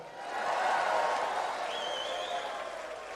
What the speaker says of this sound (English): Everybody clap right there.